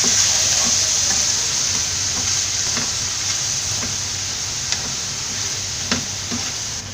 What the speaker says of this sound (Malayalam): ഇനി ഇതെല്ലാം കൂടെ നന്നായിട്ടൊന്ന് വഴറ്റിയെടുക്കാം.